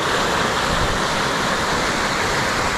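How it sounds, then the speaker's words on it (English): A torrent of floodwater surging through a local football club in Strathfield, heard as a loud, steady roar of rushing water that holds without a break from start to end. "a torrent of water engulfs the local footy club"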